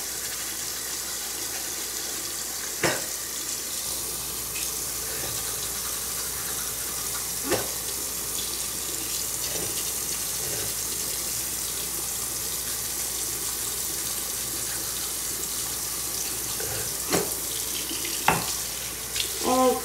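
A bathroom sink tap runs in a steady, even hiss of water for about twenty seconds, with a few faint clicks and knocks during a nighttime tooth-brushing routine.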